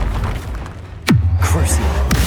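An Incendio fire spell is cast in the Hogwarts Legacy video game: a sharp sweeping whoosh, then a loud, booming low rumble that lingers, followed by a second quicker swish near the end.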